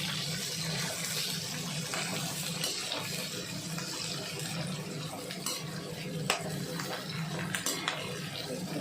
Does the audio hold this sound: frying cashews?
yes